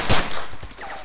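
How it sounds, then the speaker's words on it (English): Rapid gunfire in the military game Arma 3, a loud burst of shots at the start followed by further sharp reports and scattered fainter cracks in the distance, with no talk. "So it's always good to use suppressing fire or covering fire."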